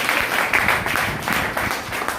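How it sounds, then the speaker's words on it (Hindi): An audience at a business meeting in Varanasi breaks into sustained clapping that stays steady and fairly loud throughout, a dense patter of many hands together. "नारायण मेरी बेटी हैं और हमारी अपलाइन भी हैं, के लिए एक जबरदस्त तालियां"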